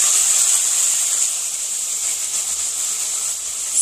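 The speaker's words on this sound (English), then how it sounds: "cooking right here is some breakfast sausage with a little bit of onion in it." Breakfast sausage with a little onion sizzles steadily in a pan, a constant bright hiss holding even and close throughout with no voices over it.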